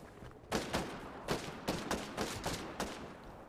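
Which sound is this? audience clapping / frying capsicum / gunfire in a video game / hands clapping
gunfire in a video game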